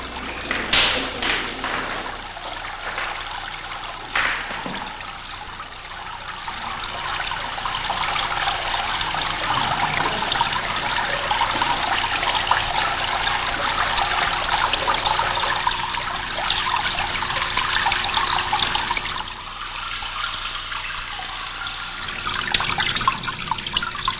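Water trickles over the basin of Isamu Noguchi's stone water sculpture in a continuous close, bright babble with small splashes, steady and fairly loud throughout.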